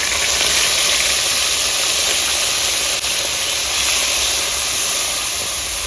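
Green chili and ginger paste frying in hot oil with dried red chilies and whole spices for a cabbage curry. A loud, constant, close hiss holds steady throughout.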